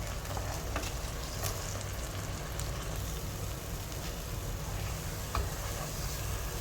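Banana halwa mixed in a pan, a dense steady sizzle and hiss of thick bubbling mixture with only faint, sparse spatula scrapes, close and even in loudness throughout, no speech.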